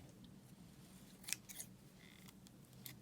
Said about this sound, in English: You can just cut